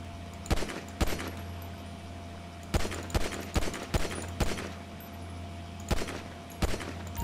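Gunfire in GTA 5 Online: sharp shots arrive singly and in small rapid clusters, loud and close over a steady low game hum.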